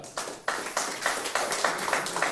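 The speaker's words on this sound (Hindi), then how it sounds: "सर के लिए एक ताली बजाओ" An audience claps for the speaker at a seminar in a hall, a dense crowd applause with a rough, pulsing rhythm that carries on steadily throughout.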